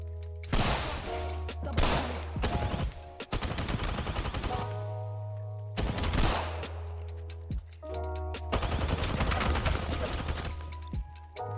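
Gunfire in the Apex Legends firing range, a video game, with loud bursts of rapid automatic shots broken by short pauses and a steady low hum underneath.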